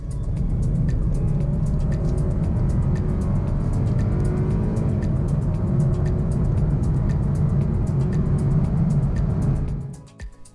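A 2018 BMW 420i xDrive accelerates hard through a 30 to 70 mph sprint, a loud sustained engine drone heard from the cabin with regular faint ticks, cutting off sharply at the end.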